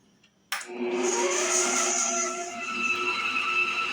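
An electric stand mixer whirs steadily as it beats chocolate cake batter in a bowl, starting abruptly and running loud and continuous with no talking.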